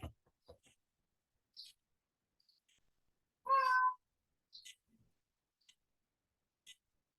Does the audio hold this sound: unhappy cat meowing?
yes